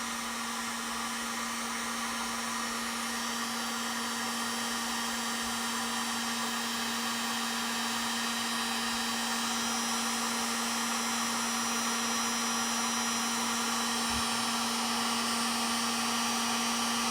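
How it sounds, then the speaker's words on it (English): A heat gun blowing steadily on a plastic part to soften and warp it, a constant loud whooshing motor drone with a fixed hum, unbroken for the whole stretch and close by. "Just heat it a little at a time and it'll start to warp."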